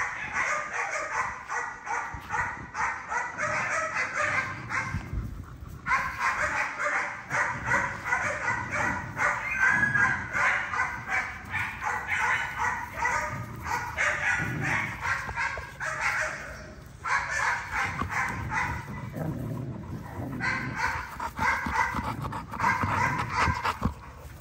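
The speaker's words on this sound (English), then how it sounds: "that is Prince and Hazel playing tug of war" Two dogs play tug of war, growling, panting and yipping continuously for over twenty seconds, loud and close with brief pauses and no talking.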